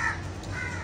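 A crow gives a single harsh caw near a birthday gathering where crows are being fed, followed by softer background squawking, moderately close and quiet overall.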